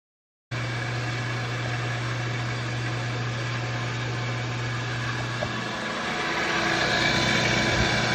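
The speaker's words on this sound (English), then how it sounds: "so we just got our pump turned on" A newly switched-on water well pump for a DIY water tank conversion runs with a steady, loud mechanical drone and a constant low hum, continuous and alone throughout.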